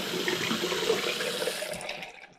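Water pours and gurgles steadily down a clogged household drain, loud and close for about two seconds before tapering off.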